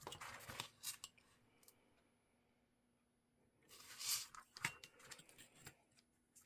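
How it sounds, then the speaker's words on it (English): Scissors snip through paper for a handmade no-sew junk journal, a few close crisp cuts at the start, a pause, then a denser burst of snipping and rustling paper near the end, with no talk. "Okay, so let me cut this off."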